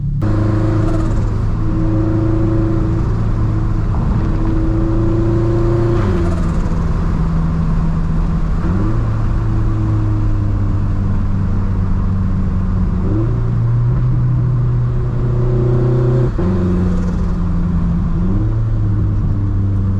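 A turbocharged FRS sports car on a daily drive with an oil cooler, catch can, bigger injectors and fuel pump. The engine drones loudly and steadily from inside the cabin, its pitch climbing and dropping repeatedly through gear changes as it accelerates.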